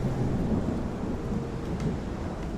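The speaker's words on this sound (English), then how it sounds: "right now, we need to see what is going on with this storm" A thunderstorm fills the air with a steady wash of rain and a deep, rolling rumble of thunder that stays loud throughout, with no voices.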